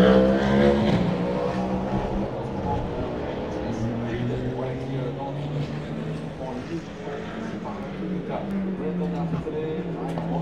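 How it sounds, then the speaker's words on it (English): Race car engines at the 24 Hours of Le Mans drone and rev with shifting pitch as cars pass by, a continuous motor roar at moderate distance with voices talking over it. "Really nice spot here to see the cars, of course."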